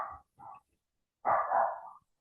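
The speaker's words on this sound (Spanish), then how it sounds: "Les pido disculpas por el ruido del perro del vecino." A neighbour's dog barks nearby, two short clipped barks followed by a longer, louder drawn-out bark, alone against silence.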